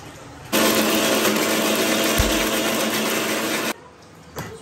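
A kitchen mixer grinder whirs loudly and steadily while grinding crab pieces, running for about three seconds before cutting off, then a quiet bump afterwards.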